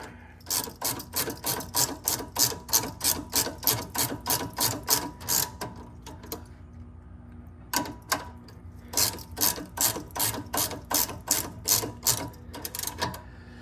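A hand ratchet clicks in quick steady bursts while tightening a sway bar link nut on a 2013 Yukon, with a short pause before a second run of close, crisp clicks.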